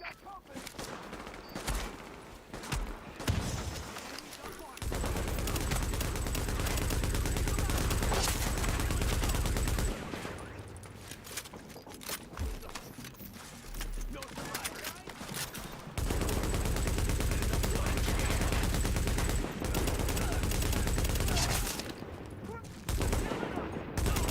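Sustained light machine gun fire in The Division, several long bursts of dense, loud automatic shots broken by short pauses, with a voice speaking between the bursts.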